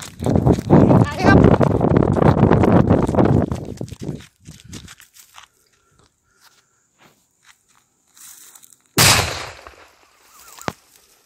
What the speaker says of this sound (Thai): ผมก็ได้ฝังระเบิดไว้ครับโขดดินแล้วนะครับเดี๋ยวมาลองกันดีกว่านะครับ